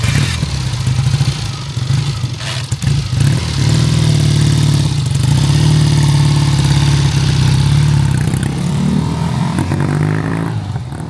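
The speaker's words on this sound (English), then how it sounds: "first up I'm on the 1968 Bonneville, and I haven't edited this out. I start at first kick" A 1968 Triumph Bonneville motorcycle engine catches after a kick start and runs steadily at a loud, close idle with a throbbing, slightly clattery tone, no talking over it.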